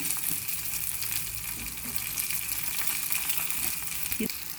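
Garlic, broken Guntur red chillies and spices frying in oil as a tempering for a sprouted-lentil vegetable palya, giving a steady close hiss and crackle with a few brief louder pops.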